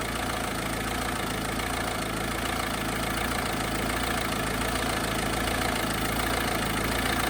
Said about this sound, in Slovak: ako keby tak chodí motor.